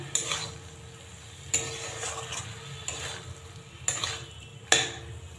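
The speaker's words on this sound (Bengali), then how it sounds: "এবার সয়াবিনগুলো দিয়ে দেব, দিয়ে খুব ভালো করে মিশিয়ে দেব" Soya chunks stirred and mixed into a spiced masala in a pan for a Bengali spinach and soya curry, with a spoon scraping and clinking against metal in several distinct strokes over a faint low background hum.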